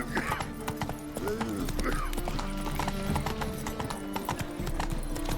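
Roach the horse trotting in The Witcher 3, a quick, even clip-clop of hooves throughout with a brief whinny, over ambient game sound.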